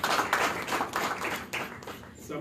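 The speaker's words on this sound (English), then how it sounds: "I think the women should clap here." Women in a startup expo audience clap briefly, a short burst of scattered applause close by, with talk mixed in.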